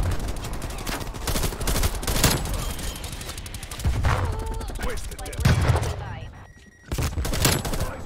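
Rapid automatic fire from an AUG rifle in Call of Duty Cold War, dense sustained bursts with only a short lull, loud and close, with a voice talking over parts of it.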